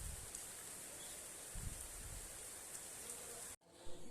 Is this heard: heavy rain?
yes